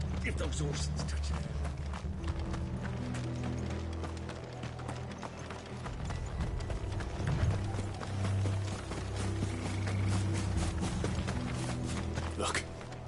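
Horses gallop through a Final Fantasy XVI scene, with a steady rapid clatter of hooves continuing throughout, mixed with rumbling low tones and rattling movement.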